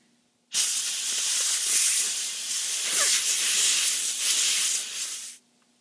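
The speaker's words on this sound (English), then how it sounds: "I'll use my air compressor to make sure that I get" Compressed air blasts steadily from an air compressor nozzle to clean parts of a disassembled Ruger 10/22 rifle, a loud continuous hiss lasting about five seconds with no talk.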